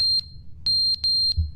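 Smoke detector with dead batteries giving short, high, piercing beeps, five in quick succession at uneven spacing over a low background hum, fairly clear and close.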